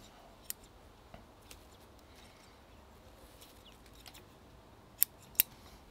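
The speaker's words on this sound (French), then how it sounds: "Donc, j'enlève cette branche, puis je vais réduire ces feuilles ici." Pruning scissors snip branches and leaves from an ash bonsai during maintenance trimming, giving a few sharp, close clicks scattered across a quiet background, with two louder cuts near the end.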